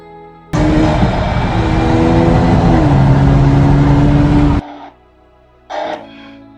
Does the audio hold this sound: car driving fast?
yes